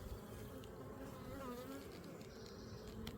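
A swarm of bees drones continuously as it is moved into a hive box outdoors. The buzz is steady and layered, and individual insects whine and pass close by over the dense background hum.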